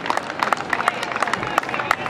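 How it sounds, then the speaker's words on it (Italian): Audience applause at a presentation of an amateur football team, a dense run of scattered claps rising and falling over about two seconds, moderately near with crowd murmur. "Diamo un grosso applauso."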